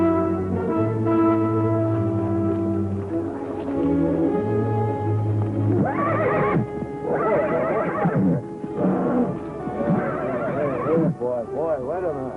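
A horse whinnies loudly several times in shrill, wavering bursts, following a stretch of droning tones at the start.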